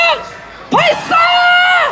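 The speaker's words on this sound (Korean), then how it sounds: "함성" A protest march crowd heading toward the presidential residence lets out a loud, drawn-out collective whoop and shout, rising sharply after a brief lull and holding steady, with voices clearly out front.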